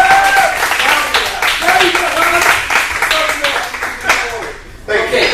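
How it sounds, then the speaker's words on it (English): Audience at a business mastermind meeting in Stockton applauds and claps steadily for several seconds, a dense crowd texture with some voices and cheers mixed in, briefly dipping near the end before picking up again. "another round of applause for cha-ching with Chong!"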